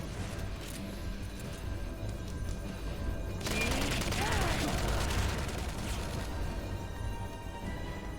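Sustained gunfire in the Metal Gear Solid game, a dense rapid volley that swells partway through and continues steadily under a busy background, with some talk mixed in.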